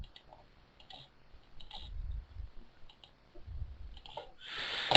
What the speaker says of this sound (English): Then you can sort of just click on here